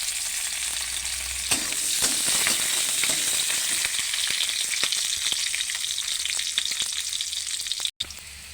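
Onions, bay leaves and chilli frying in oil with garam masala, a loud, steady crackling sizzle with scattered sharp pops and stirring scrapes, cut by one brief dropout near the end.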